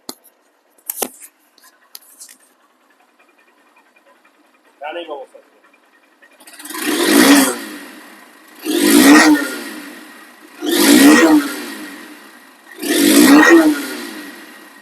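A second-hand Honda CBS Hornet motorcycle, kept original, revs in four strong, evenly spaced swells after some faint scattered noises, each rising and falling back to idle, loud and close.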